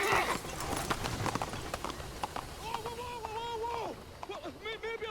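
Horse hooves clip-clop at a run through Assassin's Creed Syndicate, a rapid irregular clatter at mid distance, mixed with game ambience and a brief whinny-like tonal cry near the end.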